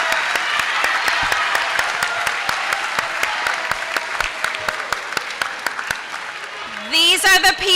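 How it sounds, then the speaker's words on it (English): Sustained applause fills a ceremony hall as school staff stand at a middle school moving-up ceremony, dense clapping with sharp individual claps throughout before a voice begins speaking at the end. "Can we give a round of applause to the most hardworking team?"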